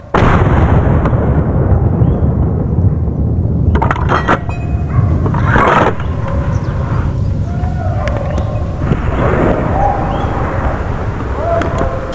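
Rifle shots fired at a wild boar during a hunt in Hungary, sharp reports standing out against a steady wash of outdoor noise, with several distinct bangs spaced across the scene.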